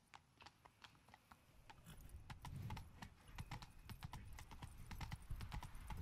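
Roach, Geralt's horse in The Witcher 3, clip-clops along at a steady walk, the hooves sharp and close and growing denser and louder as the horse moves on.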